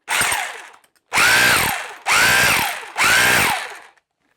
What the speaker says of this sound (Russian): Режим удар с сверлением.